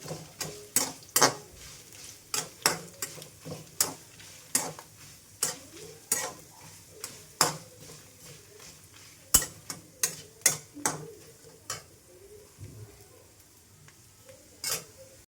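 Masala ingredients being roasted in a pan while making tomato bath, a quiet soft sizzle broken by repeated sharp scraping and tapping of a spoon against the pan at an irregular pace.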